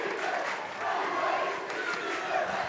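A crowd at a girls' high school basketball district championship fills the gym with a continuous, fairly distant roar of cheering and shouting, with faint voices mixed through the noise.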